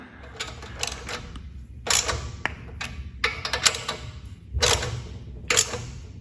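A cordless ratchet snugs exhaust bracket bolts on a 2025 Indian Scout motorcycle during a 2-into-1 exhaust install. Short bursts of rapid clicking ratchet strokes come in several back-and-forth runs, close and distinct, with no voice over them.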